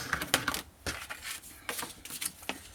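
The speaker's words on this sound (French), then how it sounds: "Alors ici, je fais mon pli. Ensuite, avec mon plioir," A bone folder pressed and drawn along a paper fold to sharpen the crease while making a scrapbook album page, giving soft close scraping and crinkling strokes in short irregular bursts.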